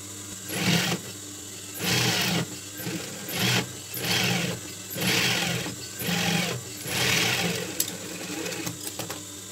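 A sewing machine stitches a logo onto a cap in a series of short, even whirring bursts. Brief pauses separate the bursts, and the machine sounds close and moderately loud throughout.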